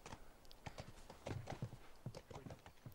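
Horse hooves clip-clopping in The Last of Us video game, a steady run of close, distinct hoofbeats with soft game ambience behind them.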